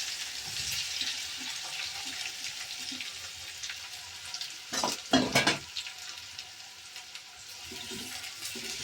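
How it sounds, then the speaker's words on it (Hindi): Fenugreek seeds and onion frying in hot oil, a steady close sizzle throughout with a louder burst of crackling midway as ingredients hit the pan, then settling back to a constant hiss. "तेल गरम है और अब डालूंगी मैं इसमें मेथी दाना।"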